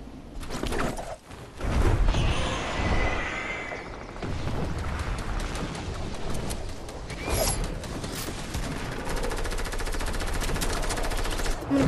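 Rapid bursts of video game gunfire in Fortnite, loud and dense, with automatic fire rattling across much of the stretch and voices talking over it.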